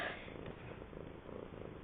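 A house cat purrs steadily up close, a soft continuous rumbling with gentle rhythmic pulses, heard alone without talk.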